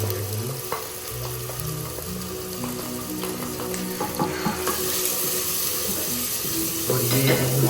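Tomato and ginger sizzle and fry steadily in a hot pan for a chicken dish, a continuous broadband crackle with faint clinks and some background tones throughout.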